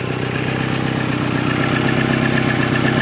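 A 2000 Volkswagen Jetta engine idles steadily and close up, with a light belt noise running through the low, even rumble and no talking over it.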